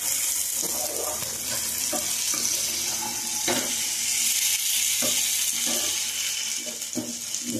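Chicken fry cooking with spices in a pan, a bright loud hiss of sizzling oil with scraping stirs and small clatters, close and continuous with no talk.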